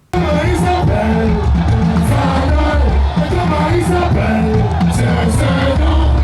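Football fans pack the esplanade of the Général Mathieu Kérékou stadium in Benin to welcome the national team, a dense, loud, continuous roar of cheering and shouting crowd that stays steady throughout.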